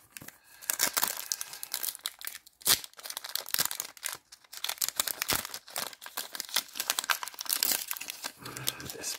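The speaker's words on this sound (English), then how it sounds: "This pack is shredding into pieces." A trading card pack is torn open, with dense crinkling and ripping of foil wrapper close up, crackling in bursts for several seconds.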